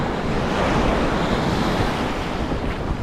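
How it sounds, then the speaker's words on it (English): Rough ocean waves break along a beach shoreline, a steady loud broadband roar of surf with wind, no voices. "Sometimes when the waves are right about to break like that, it creates almost like a window you can see."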